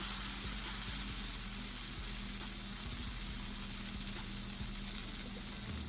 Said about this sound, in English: we are gonna fry the bun. Make sure the oil is really hot.